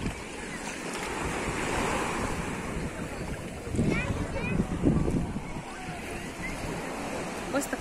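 Black Sea waves washing onto the beach at Zatoka, a continuous surf roar with wind buffeting the microphone, a couple of louder wave surges midway, while someone talks over it.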